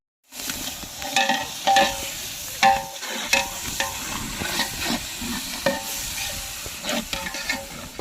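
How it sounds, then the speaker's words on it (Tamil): Ginger garlic paste (300 g ginger, 150 g garlic) sizzles in a pot for village-style mutton leg biryani, with repeated scraping stirs and clinks over the frying hiss, close and moderately loud. "நம்ம இஞ்சி பூண்டு பேஸ்ட் போட்டுக்கிறோம்"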